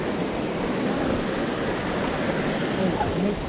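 A waterfall in Yosemite National Park roars in a continuous, broadband rush of falling water, steady and fairly loud, with some wind noise mixed in.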